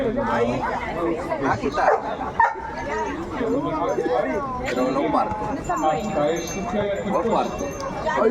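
A dog barks now and then amid a busy street crowd at an outdoor ice cream stand giving free ice cream to dogs, with steady chatter and nearby voices talking throughout.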